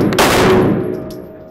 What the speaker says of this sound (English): I'm about to shoot a fucking gun.